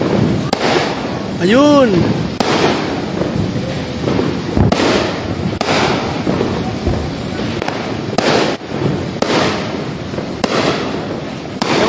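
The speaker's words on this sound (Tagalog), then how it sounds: "mahina ang putukan dito ngayon guys" New Year fireworks and firecrackers go off outdoors: sharp bangs and crackling bursts repeat irregularly at near and far distances, and one rising whistle sounds early on. People talk and call out over the explosions.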